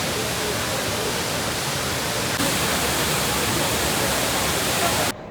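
An indoor waterfall inside Changi Airport in Singapore roars as a dense, constant rush of falling water, loud and close, masking everything else until it cuts off abruptly at the end.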